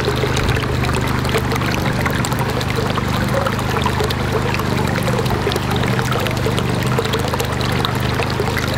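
Water flows steadily into a trough during winter watering, making a continuous, close, loud rushing and trickling wash with no breaks for the whole stretch.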